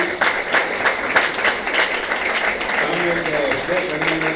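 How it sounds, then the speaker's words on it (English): A conference audience claps together at a technopreneurship conference valediction, producing a dense, continuous patter of applause at moderate loudness, with a faint voice surfacing near the end. "so we'll give her a round of applause"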